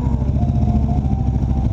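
A KTM RC8 1190 sport motorcycle engine rumbles steadily up close, its loud, throaty Akrapovic racing exhaust burbling without pause.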